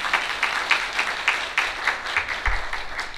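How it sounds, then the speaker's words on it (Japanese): An audience at a comedian's SDGs talk event in Isesaki civic plaza applauds with steady, rhythmic clapping that carries evenly throughout without voices. "拍手。"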